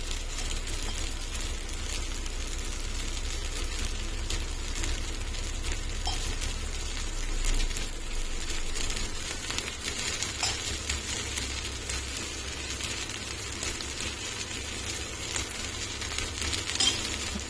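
Idli pieces fry in ghee in a pan with a steady, close crackling sizzle, broken by occasional light clinks of a utensil.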